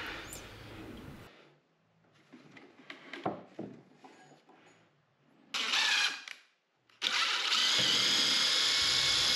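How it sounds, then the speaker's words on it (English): A jigsaw cutting a piece from a wooden workpiece, starting with handling clatter, then a short buzzing burst and a loud sustained rasping cut, heard close up. "I can take this piece off and cut it with a jigsaw"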